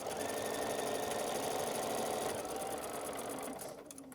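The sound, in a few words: sewing machine stitching quilt fabric seams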